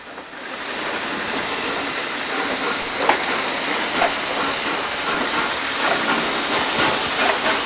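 A massive Kriegslok TY2 heavy wartime steam locomotive lets out a loud, steady hiss of steam that runs unbroken for several seconds, with faint clanks now and then.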